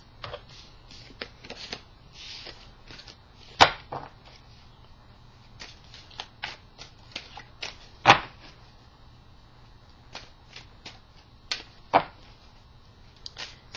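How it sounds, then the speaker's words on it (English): Tarot cards being shuffled up close, irregular bursts of riffling and flicking with a few sharper snaps, no talking. "Give me a moment while I shuffle, please."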